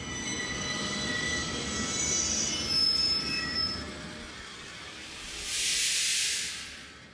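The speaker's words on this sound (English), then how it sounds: "The train pulled into the station with a screech of brakes and a blast of steam." A steam train pulls into a station with high metallic wheel and brake squeals, followed by a loud rushing hiss of released steam near the end.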